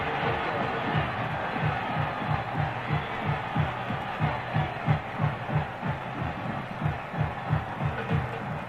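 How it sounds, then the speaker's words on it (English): A large crowd at the 1954 Grey Cup football game in Montreal roars after a touchdown, a dense continuous swell of cheering with rhythmic pulsing, heard through an old, muffled broadcast recording. "Doesn't that crowd roar?"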